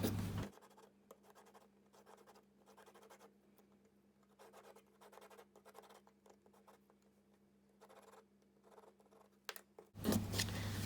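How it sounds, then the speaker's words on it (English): A pencil draws lines on paper card for a stamped Christmas card, making close, dry scratching strokes in repeated bursts with short pauses and no talking. "I'm just going to create those lines with my pencil"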